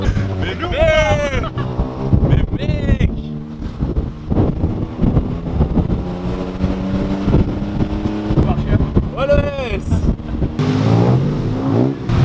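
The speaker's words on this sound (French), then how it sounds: "Et voilà les gars, petite expérience scooter mon gars" A scooter ride through Thai traffic, with steady engine drone and road noise running throughout and rising and falling revs, while young men chat loudly over it the whole way.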